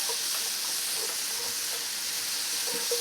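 Vegetables frying in a pan with a little salt for a keto chicken stir fry with noodles: a dense, steady sizzle and hiss without pause, close and fairly loud, with faint stirring movement underneath.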